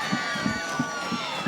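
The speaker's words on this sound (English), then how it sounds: "And that brings this crowd to life here at Millenium High School." Crowd at a high school football game at Millenium High School, a sustained roar of cheering and shouting with rhythmic pulses like stomping or chanting underneath, fairly loud and continuous.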